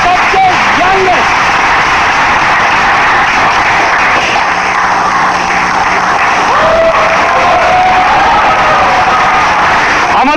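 An audience claps and cheers loudly for Miraj, a dense, continuous wash of applause and shouts that fills the room for about ten seconds, with voices mixed in.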